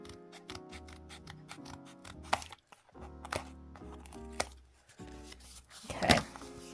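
Scissors snipping and trimming paper while making a pop-up card, a series of crisp close cuts in quick irregular bursts with short pauses, no talking.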